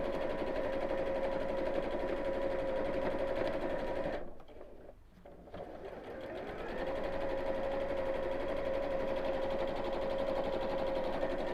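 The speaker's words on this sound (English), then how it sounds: "I'm just going to sew just along the one side this time" A sewing machine stitches a seam at steady speed, a close rapid buzzing whir that pauses briefly midway, then resumes.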